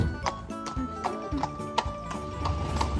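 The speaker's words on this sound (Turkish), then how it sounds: "Evet at geçiyor." A horse walks past at a stable, its hooves clip-clopping in an irregular rhythm at moderate distance, with faint background voices and quiet ambient noise around it.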